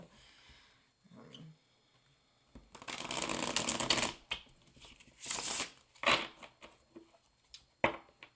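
A brand-new tarot deck is shuffled in several quick riffling bursts with short pauses between, close and crisp, no talking.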